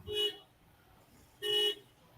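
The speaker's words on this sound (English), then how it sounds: "horn honking" A car horn outside next door gives two short honks about a second apart, muffled and somewhat distant, heard indoors over a quiet room.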